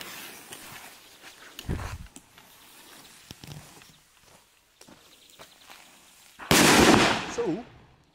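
A heavy firecracker, among the loudest fireworks sold, bursts in one loud, close blast near the end, after a smaller pop earlier. Quiet shuffling and faint voices fill the gaps between the bangs.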